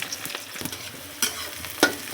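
Chopped onion fries in hot oil with green chilli, a steady sizzle broken by a few sharp scrapes of stirring, close and without talk.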